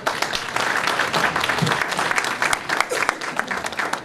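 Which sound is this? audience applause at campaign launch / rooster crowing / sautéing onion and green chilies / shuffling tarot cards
audience applause at campaign launch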